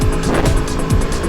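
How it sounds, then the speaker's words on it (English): An Aprilia V4 motorcycle engine roars loudly and continuously while the bike is ridden hard through corners, its throttle swelling and dipping in a rhythmic drone with no voices. "listening to that V4 engine roar"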